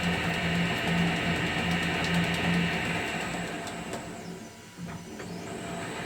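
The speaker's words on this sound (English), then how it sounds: "press the backwards reverse button, which quickly reverses the direction of the spindle. So this is very convenient for me for thread cutting." A Colchester Chipmaster metal lathe runs steadily while cutting metric threads, a continuous close mechanical whir and hum with a faint high whine, easing slightly partway through, with no talking.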